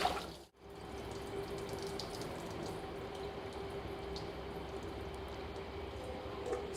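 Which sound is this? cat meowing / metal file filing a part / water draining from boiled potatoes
water draining from boiled potatoes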